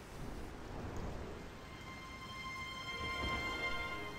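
Rain in the Sky: Children of the Light game falls as a soft, steady hiss with a low rumble of distant thunder underneath. The storm stays faint and constant with no speech.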